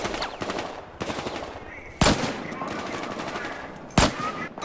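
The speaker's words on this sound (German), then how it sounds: "Oh, da schießt auch schon einer." Gunfire in Battlefield Hardline: rapid automatic bursts throughout, with two loud, sharp close shots standing out, one around the middle and one near the end, in a busy game mix.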